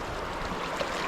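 Canoe running a small river rapid on a Maine trip in early spring, a brief, steady rush of churning water that stays fairly faint throughout.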